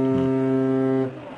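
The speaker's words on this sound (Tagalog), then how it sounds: "Sino yung nag-horn sa kanila?" A deep, steady ship horn blares loudly for about a second, rich and droning, then cuts off abruptly, leaving a faint tail.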